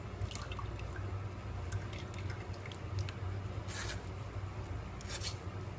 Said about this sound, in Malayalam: നല്ലപോലെ സ്പൂൺ വെച്ച് പ്രസ് ചെയ്യുക. വെള്ളമൊക്കെ നല്ലപോലെ വാർന്ന് കിട്ടണം.